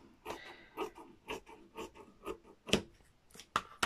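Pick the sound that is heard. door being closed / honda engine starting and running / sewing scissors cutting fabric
sewing scissors cutting fabric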